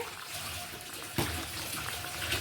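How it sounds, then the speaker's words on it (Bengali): Water pours steadily into a pan of cooked chicken curry (mangsher jhol), a continuous close splashing rush that swells slightly louder partway through, with no talking. "এবার আমি পরিমাণ মতন জল দিয়ে দেবো"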